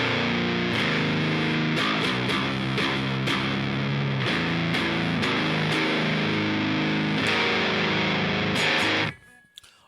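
Heavy distorted electric guitar through a Line 6 Helix doom amp patch, loud and sustained with chugging chords for about nine seconds before cutting off abruptly into a brief ringing tail.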